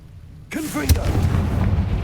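A Confringo explosive spell in Hogwarts Legacy goes off abruptly, a sharp burst followed by a booming, rumbling blast that sustains loud and full for over a second, with no voices.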